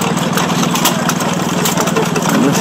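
A running engine at a vintage vehicle rally gives a steady, loud idling rumble with a regular low pulse throughout, no pauses, close by and outdoors.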